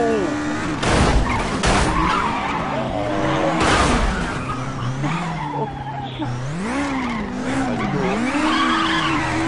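An F1 car in the racing game F1 2012 at Shanghai International Circuit skids under the handbrake, with loud wavering tyre squeals over the engine drone and a few sharp bursts. An excited voice can be heard alongside.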